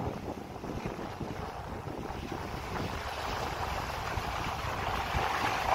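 A small six-metre speedboat pushes hard toward open water, a steady low motor drone blended with wave wash and heavy wind noise on the microphone, holding constant and swelling slightly toward the end.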